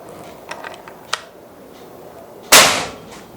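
A single sharp, loud shot from a 500cc PCP bullpup air rifle cracks near the end, preceded by a few faint mechanical clicks.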